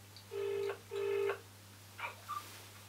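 Telephone keypad dialing: two long touch-tones followed by a few shorter, fainter beeps, clean and close over a low steady hum.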